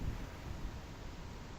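A stretched Vocaloid breath note, a soft airy hiss held steady and fairly quiet for over a second, with no voice or other sound.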